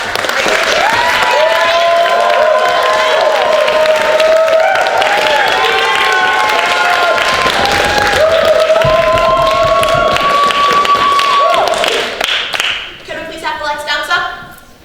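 Steady applause from a large audience fills most of the clip alongside sustained tones, then breaks off into scattered, quieter sounds near the end.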